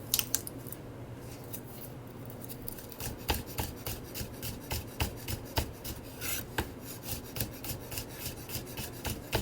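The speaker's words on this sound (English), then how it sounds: "thinly slice your garlic cloves" Knife thinly slicing garlic cloves on a board: quiet, uneven rhythm of crisp taps and short rasping strokes at close range, repeating irregularly with no talk.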